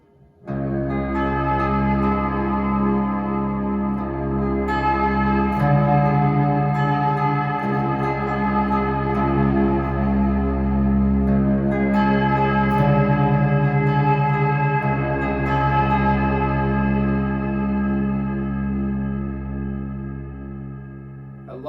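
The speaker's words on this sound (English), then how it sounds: "Let's try it with some ambient reverb." Sustained electric guitar chords through a Voodoo Custom Pickups Pennywise humbucker, drenched in lush, spacious ambient reverb, notes washing into each other with a long shimmering tail; loud and steady throughout.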